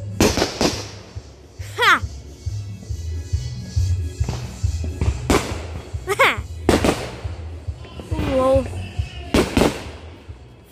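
Fourth of July fireworks bursting outdoors, a series of sharp loud bangs and crackling pops at irregular intervals, mixed with whistles, while a person laughs and exclaims between the blasts.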